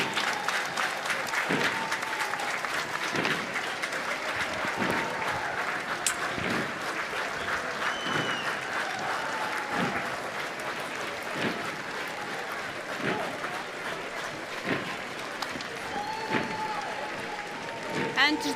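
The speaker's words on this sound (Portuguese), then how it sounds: "a sua passagem também muito aplaudida pelas pessoas que estão a assistir ao desfile militar" Spectators at a Portugal Day military parade in Braga applaud marines passing by, a continuous crowd clapping with steady rhythmic marching thumps beneath and a commentator's voice talking over it.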